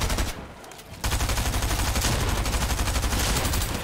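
Rapid gunfire from a video game shooter in an Arena Champs match, a loud dense burst of repeated shots filling the clip after a brief quieter opening.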